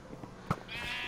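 A single sheep bleat from the Minecraft video game sounds near the middle, short and clear over a quiet, faintly hissing background with a brighter tonal hum building toward the end.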